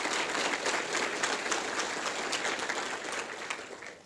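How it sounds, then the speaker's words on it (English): Conference audience applauding at a PyData Seattle data science event, steady dense clapping filling the room for about four seconds before starting to taper off, with no talking over it. "If we get a round of applause to Microsoft and the team here who helped us."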